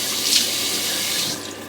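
Tap water runs steadily into a sink as the face is wetted before shaving, a continuous close splashing hiss with no talking.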